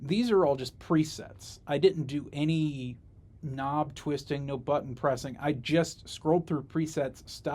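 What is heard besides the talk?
No everyday noise stands out behind the speech.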